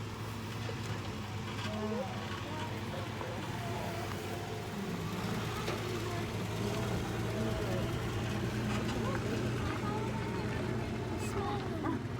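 A safari tour truck's engine runs at a steady low rumble throughout an open-air drive on an African-style wildlife tour in wine country, while a guide talks over it.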